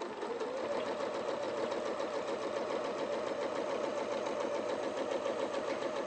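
A sewing machine runs steadily, stitching strips of fabric together for a quilt, with a continuous close mechanical whirr and fast needle rhythm throughout and no talking.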